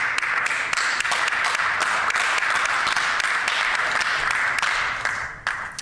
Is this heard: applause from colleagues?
yes